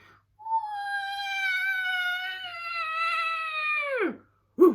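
A cat lets out a long, sustained caterwaul, a single drawn-out wailing yowl that slides downward and fades, heard alone and fairly close, followed by a brief short sound at the end.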